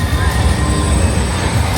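Train on the Universal Hollywood studio tour, a loud, close rush of rolling wheels with high metallic squealing tones over a heavy low rumble.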